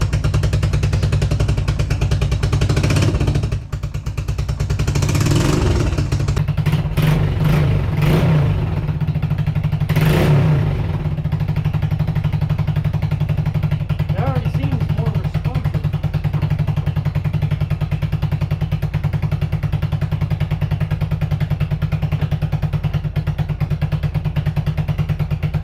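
A 1991 Suzuki Quadrunner ATV with a freshly rebuilt Mikuni carburetor idles and warms up, a steady loud low engine drone throughout, with a few brief throttle blips and clatter early on.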